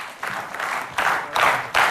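A studio audience on a televised music show breaks into applause for the sponsors, with uneven waves of clapping that swell and ease, then surge again in strong bursts.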